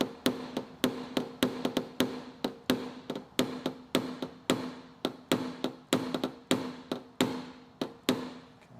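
A paintless dent repair hammer taps on a Porsche Carrera body panel, striking in a steady, even rhythm of roughly three or four crisp metallic knocks per second, close and clear with no talk.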